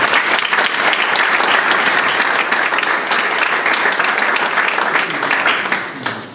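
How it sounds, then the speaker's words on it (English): Loud, dense applause from an audience welcoming speakers at a discussion event, steady across the whole stretch and easing slightly at the very end. "So if we could just give our speakers a very warm welcome and a round of applause."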